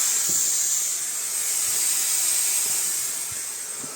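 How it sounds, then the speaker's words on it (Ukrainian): An air compressor used for car painting, rated at 1100 litres per minute, keeps hissing after being switched off. The hiss is loud, steady and continuous, easing slightly toward the end. "Та я компресор виключив, він ще шипить."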